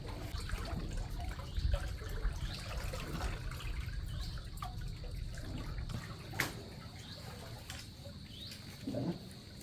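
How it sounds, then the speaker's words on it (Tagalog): Water rushes and churns steadily as a broad continuous roar, with faint bird chirps and occasional splashes. "Malakas po ang dali ng tubig."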